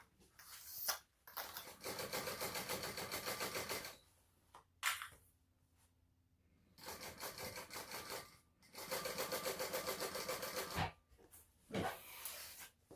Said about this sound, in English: I'm going to baste all the way around this whole perimeter.